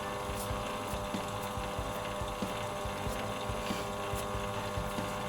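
A small lathe spins a clock plate screw held in a pin vise in the chuck, giving a steady motor hum with faint rhythmic ticking, continuous and fairly quiet.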